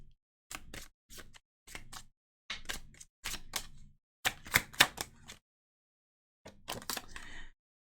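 Tarot cards shuffled and drawn during a reading, in a series of short, crisp slaps and riffles in uneven bursts with brief pauses between them, close and fairly loud with no voices.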